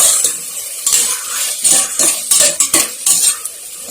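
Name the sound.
onions and tomatoes being stirred and sautéed in a pan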